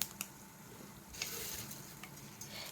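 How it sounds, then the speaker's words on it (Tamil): Mustard seeds and cumin frying in hot oil for temple-style puliyodharai, a soft steady sizzle with scattered small crackles and pops, fairly faint and close, with no talking. "இப்போ நம்ம இதில் கடுகு போட்டுக்கலாம் அதுக்கப்புறம் சீரகம் போட்டுக்கலாம் நல்லா பொரியட்டும்"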